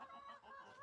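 A fighting rooster clucks briefly and faintly, a short throaty warble of low-level calls.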